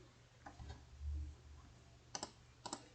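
A single firm key press on a computer keyboard while working in an Excel spreadsheet, two close clicks heard near and clear in a quiet room, with a couple of softer taps earlier.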